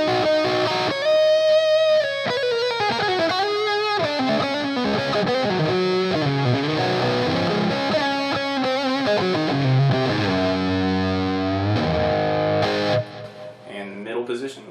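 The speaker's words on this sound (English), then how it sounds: "we'll go the 2 position, and like I said, this is going to get really mid-rangey and sweet." An electric guitar fitted with DiMarzio Bluesbucker pickups, set to the 2 position, plays a continuous, mid-rich melodic run of sustained single notes and bends with distortion, then thins out and decays into sparser, quieter notes near the end.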